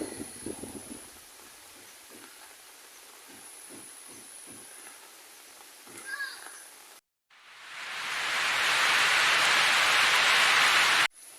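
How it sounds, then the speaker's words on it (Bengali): Continuous heavy rain in a wind-driven downpour, a loud steady hiss that swells and holds for several seconds after quieter stretches of faint voices and ambient noise. "হ্যাঁ অবিরাম বৃষ্টি পড়তেছে"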